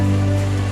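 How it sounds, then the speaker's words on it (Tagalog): Rain falls steadily during an outing, a continuous broadband hiss lying under a strong, steady low hum, with no one speaking. "Ulan na."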